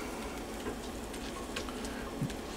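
Butter sizzling in a frying pan for a shrimp dish, a faint, steady crackle and fizz close by with a few small pops, no voices.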